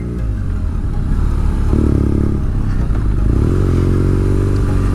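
A 2017 BMW R nine T Scrambler motorcycle engine runs steadily with a deep, throaty rumble, rising briefly as it revs and passing along the road, with no talk over it.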